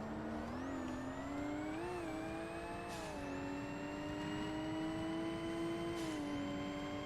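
High-revving race car engine from the Forza Motorsport video game, a sustained loud whine of a four-turbo twelve-cylinder car holding steady pitch with brief dips as gears or throttle shift, no talking.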